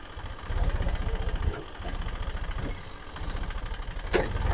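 A fully loaded Massey 245 tractor engine chugs in a rapid diesel beat during a power test on a soft, muddy track, close by and surging in repeated waves of revving with no talk.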